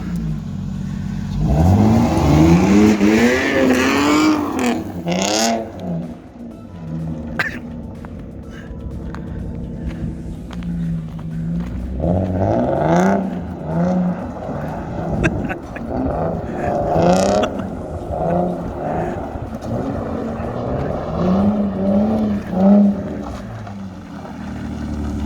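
A car engine revs and surges repeatedly during a test drive in a junkyard, rising and falling in pitch, close by, with a few brief voices in between.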